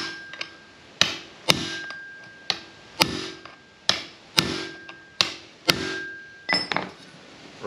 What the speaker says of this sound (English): Now with the cold chisel on the back of the bearing, hopefully it separates, so give that a decent hit.